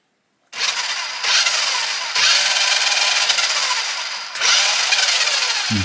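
An Exost Pixie remote-control car powered from a 9-volt bench supply runs with a loud, steady high-pitched electric motor whine, starting abruptly and surging in a few bursts with brief dips between them.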